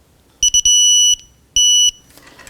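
Digital torque wrench beeping at its set torque while tightening strut bolts on a 2011-2018 Volvo S60, three quick high beeps followed by a long tone, then another long tone, close and clear.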